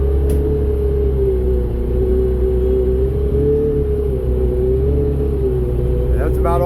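A 120 hp Sport Jet engine driving a small jet boat, holding a loud, steady droning whine that rises slightly as it speeds up. A voice talks over it in places.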